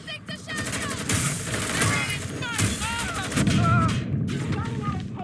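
Gunfire in the video game Watch Dogs: Legion: dense, rapid shots and bursts crackle continuously over several seconds, with chaotic game sound effects mixed in.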